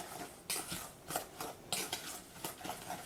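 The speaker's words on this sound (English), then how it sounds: "So I'm going to add my vanilla. Stir it all together." Vanilla being stirred into a mixture in a bowl for kifli dough, a spoon scraping and clinking against the bowl in a steady, repeated rhythm, close and fairly loud.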